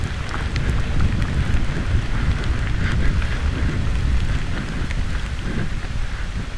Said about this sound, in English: Rain's coming in.